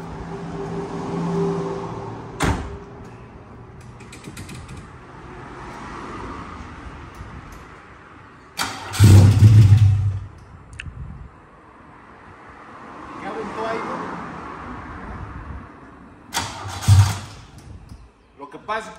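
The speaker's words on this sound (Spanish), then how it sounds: "Le voy a dar marcha hasta que inyecte" A carburetted car engine with newly fitted headers is cranked by its starter after the fuel line was drained, giving several separate bursts of cranking and brief catching separated by quieter pauses.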